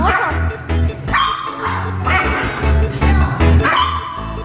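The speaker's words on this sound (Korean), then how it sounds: "자기를 봐달라고 간식 달라는 별이 막 짖고 있죠?" An excited small dog barks and yips rapidly for a treat indoors, with repeated close, loud bursts and little pause between them, while other sounds clutter the background.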